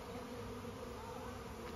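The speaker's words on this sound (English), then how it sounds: "there's a huge lump of bees underneath, and we have all these other bees flying around" A swarm of bees moving into a bait hive high in a tree, a dense, steady buzzing drone that stays fairly loud and continuous throughout, with no talk over it.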